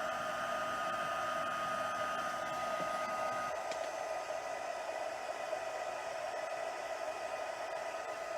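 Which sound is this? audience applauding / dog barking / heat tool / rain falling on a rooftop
heat tool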